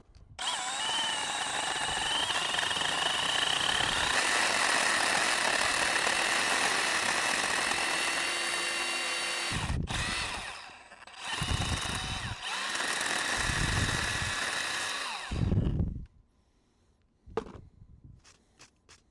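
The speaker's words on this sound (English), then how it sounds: "This saw is variable speed, so it gives you a good amount of control when you're getting into a tight cut like this" A Milwaukee M18 FUEL Hatchet 8-inch electric pruning saw cuts through hard dogwood with a loud, steady, high motor whine for about ten seconds, followed by several short revving bursts before it stops.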